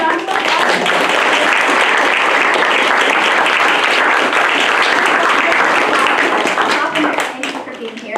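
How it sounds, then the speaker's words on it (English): Audience applause at a university innovation challenge final event, a dense and steady wash of clapping from a large crowd that holds loud throughout and eases slightly at the very end. "Yay, round of applause."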